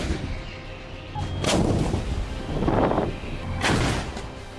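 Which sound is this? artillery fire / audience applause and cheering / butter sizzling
artillery fire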